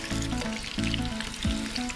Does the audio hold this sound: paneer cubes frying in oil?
yes